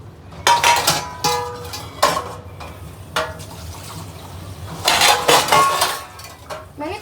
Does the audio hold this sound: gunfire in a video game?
no